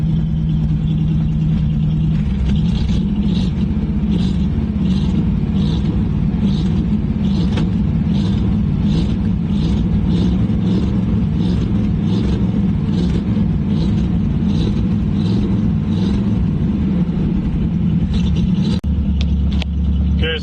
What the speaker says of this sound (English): So I fired it up again. I'm just trying to run it till the carburetor runs out of fuel.